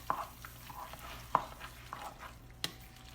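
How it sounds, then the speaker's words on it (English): A spoon stirs a squash casserole mixture in a bowl, giving soft, faint scraping swishes with a few sharper clicks against the side, close and quiet, with no voices. "we're going to want to stir that all together"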